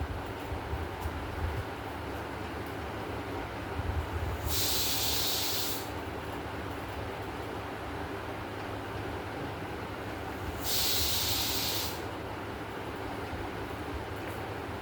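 Two bursts of sharp, steady steam hissing from a pressure cooker, each lasting about a second, rise over a constant low rumble with no talking.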